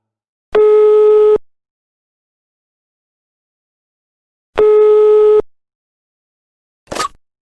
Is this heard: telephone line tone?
yes